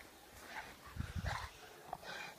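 Dogs outside in snow giving faint, soft whimpers and short yips, a few brief sounds spread over a couple of seconds, quiet and a little distant.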